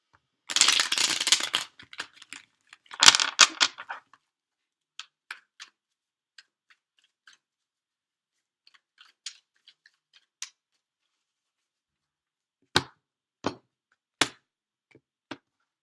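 Tarot cards are shuffled in two dense riffling bursts early on, followed by sparse, crisp taps and snaps as the deck is cut and cards are laid down, close and quiet with no talking.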